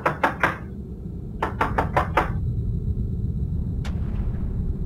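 Knocks on a door, three quick raps and then four more in a second burst, each sharp and close, with a single fainter knock after a pause, over a low steady rumble.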